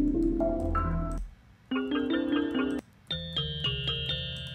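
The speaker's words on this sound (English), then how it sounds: "then I'm showing you some bells." Bright synthesized bell tones ring out in three short melodic phrases separated by brief pauses, clear and close with shimmering sustained overtones.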